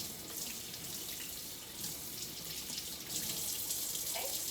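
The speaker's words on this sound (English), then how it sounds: "we're gonna turn our faucet on" A faucet turned on for hand washing, water streaming steadily into a sink with a soft, even splashing hiss that grows slightly fuller near the end, quiet and without talk.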